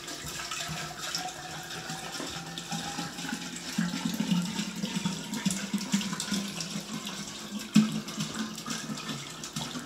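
Water pours steadily into a container, a continuous close splashing fill that rises slightly in intensity with a brief louder splash near the end, and no voices.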